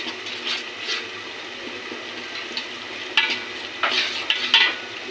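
Khichuri being stirred in a pot on a rainy day, soft scraping and clinking strokes over a low simmering sizzle, a few sharper stirring bursts toward the end.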